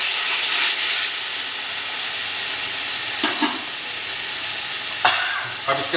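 Chicken masala is mixed and fried in a pan, with a strong steady hiss of frying and a few bursts of stirring scrapes near the end, close and without voices.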